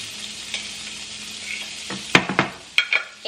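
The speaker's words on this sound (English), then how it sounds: "in that same pan where we have all of the flavors and a little bit of the juices left, okay, I'm gonna throw in my onions" Onions and garlic sizzle in a frying pan that still holds juices left from an earlier batch, a soft steady hiss broken near the end by several sharp scraping stirs, close up with no talk.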